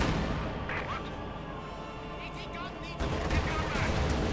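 Tank cannons fire a swift barrage in the real-time strategy game Company of Heroes 2: dense, continuous blasts and rumbling explosions fill the mix loudly, with a sharper jolt partway through, while a commentator talks over the battle.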